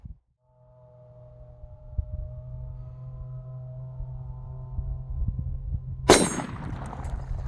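A single distant rifle shot is followed by a sharp metallic ring from a steel target, heard over a low steady hum and faint tonal background.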